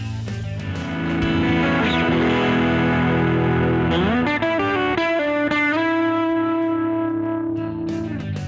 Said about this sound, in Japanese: 今回は歪み系エフェクターの中でも特に使い勝手のいいディストーションを作ってみようと思います。